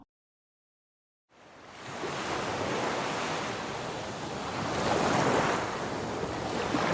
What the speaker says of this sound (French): Le son du ressac, la mer qui vient lécher la plage.